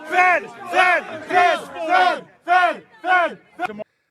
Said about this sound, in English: The people around him there in the crowd were chanting, "Fed, fed, fed,"